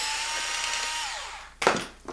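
A Makita drill works on the screws of an RC car's battery tray: a steady whine that slowly winds down in pitch, then a short, sharp burst of noise near the end.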